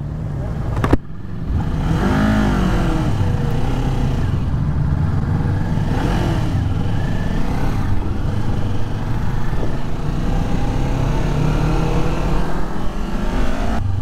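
A 2023 Kawasaki Ninja 400 motorcycle engine accelerates while being ridden, its loud buzzing note rising and shifting through gears over wind rush, heard close up throughout.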